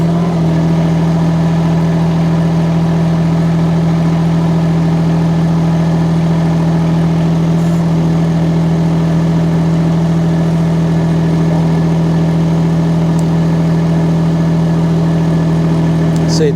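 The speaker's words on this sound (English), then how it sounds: "it's going into the ground pretty easy, and it's at the full depth of the auger bit now" A mini excavator's hydraulic auger bores steadily into the ground, its engine droning at a constant loud hum with a strong low tone throughout, no pauses or revving changes.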